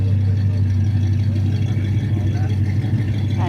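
A classic GMC truck engine idles at an outdoor swap meet, a steady low rumbling hum holding evenly throughout, with people talking over it.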